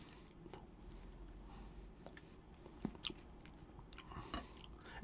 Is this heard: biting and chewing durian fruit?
yes